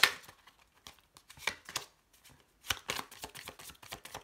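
Tarot cards shuffled for a reading, a run of crisp riffling flutters and soft slaps with brief pauses between bursts, close and fairly quiet with no voice.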